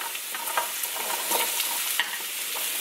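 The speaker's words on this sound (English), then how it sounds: "I'm going to throw the potatoes in the skillet" Potatoes cut into small, fine pieces sizzle steadily in hot oil in a skillet, a continuous bright crackle with occasional louder pops and stirring scrapes, no voices.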